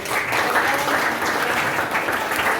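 A class of students claps together in steady, dense applause that continues for a couple of seconds, close and fairly loud, with no talking.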